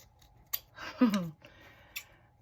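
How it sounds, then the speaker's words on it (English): Scissors cut around a jumbo playing card in a few close, quiet snips over a couple of seconds. "it's just cutting around it all"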